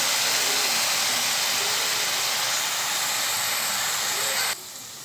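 Shallots sauté in hot oil for a mutton kurma, giving a loud, steady, broadband hiss that runs nearly unbroken and drops to a softer sizzle in the last half second.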